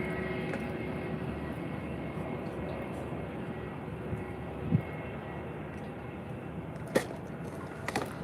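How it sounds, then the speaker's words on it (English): Transavia Airbus A320neo landing at Faro Airport on a summer afternoon: a faint, steady jet hum runs throughout, with a couple of brief sharp clicks standing out. "So here comes now the Transavia A320, the Neo. This one landing in right now."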